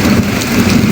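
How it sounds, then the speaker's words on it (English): Hail and rain pounding down during a thunderstorm, a loud, dense, steady hiss and clatter filling the brief moment without a break. "Round 2, and this time hail."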